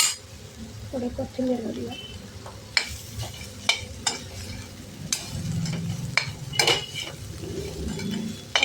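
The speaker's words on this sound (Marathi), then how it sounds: "आता हलवून घेऊया." Kantole (spiny gourd) vegetable curry stirred in a pan with a metal spoon, sharp scraping clinks and taps against the pan over a soft sizzle, while a person speaks in between.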